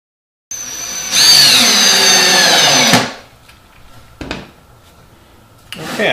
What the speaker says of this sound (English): I'll drill some countersink holes to hide some of this in